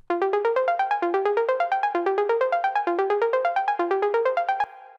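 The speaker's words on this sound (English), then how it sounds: "Then in the second part of the drop, I added a top arp" Techno top synth arpeggio: bright, plucky notes repeat in a fast, steady pattern that climbs and falls across about an octave, played alone and ending in a short decaying tail.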